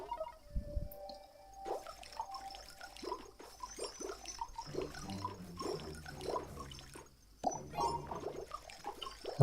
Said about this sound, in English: We want to water this crop down.